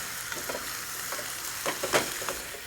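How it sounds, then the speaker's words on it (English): Carrots sautéing in a spicy honey glaze, sizzling steadily while a utensil pushes them around, with a few soft scraping stirs clustered near the end and no talking. "Now saute your carrots in the spicy glaze for about 3 to 4 minutes."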